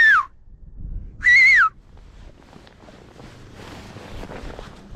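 A man on a frozen lake during winter pike fishing in strong wind and frost gives two loud, close whistles, a short falling one then a longer one, followed by soft rustling and crunching footsteps.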